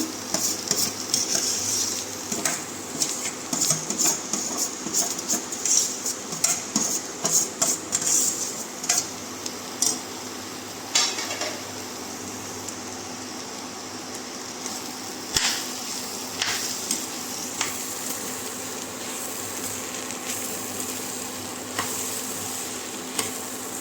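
Mashed potatoes being stirred in a pan over low gas for a masala dosa filling, with a continuous soft scraping and faint sizzle and quick spoon taps against the pan, close and steady, no voices.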